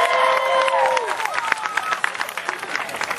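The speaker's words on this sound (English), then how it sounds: "let's give Dave here a nice big Anderson, South Carolina round of applause for what he's about to do for you" A crowd at an alligator show in Anderson, South Carolina claps and cheers in a brief burst. The applause sits under a voice speaking over a loud, busy outdoor mix.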